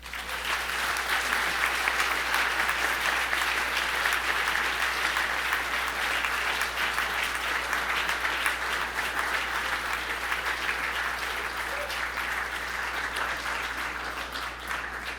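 A banquet hall audience at a journalism awards dinner gives a sustained round of applause, dense and loud, holding evenly for about fifteen seconds with no voices over it.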